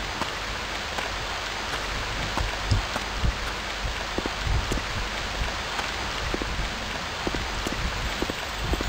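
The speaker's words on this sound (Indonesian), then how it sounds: "Dan masih hujan." Steady rain falls throughout in the survival video game Stranded 2, a dense continuous hiss with scattered drop taps, moderately loud and without voices.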